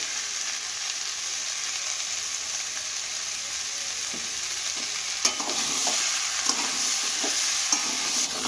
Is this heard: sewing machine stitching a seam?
no